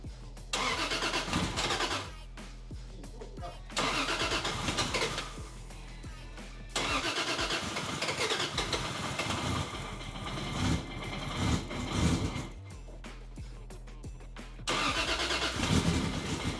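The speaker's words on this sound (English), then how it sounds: "Starting the engine." A Nissan S14 race car engine cranks and catches several times, loud and close, with bursts of revving separated by brief drops in sound.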